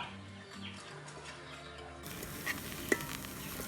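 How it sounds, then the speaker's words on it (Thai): Mushrooms and broccoli stir-fried in a pan give a soft, steady sizzle with light scraping, one brief sharper clatter near the end, and no voices. "เราก็จะเอา เห็ดแล้วก็ บรอกโคลีนะ มาผัดรอค่ะ"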